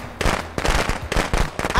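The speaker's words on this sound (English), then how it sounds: "Why is she playing with firecrackers?" Rapid bursts of firecrackers crackle through a Friday the 13th video game match, popping in clustered volleys across the moment, loud and close.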